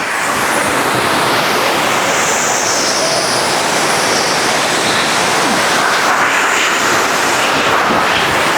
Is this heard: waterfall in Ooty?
yes